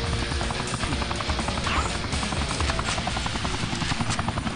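Helicopter in the video game Vivisector, a constant rapid rotor chop and engine drone filling the whole stretch without pause, close and fairly loud.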